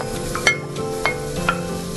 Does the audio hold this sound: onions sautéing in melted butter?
yes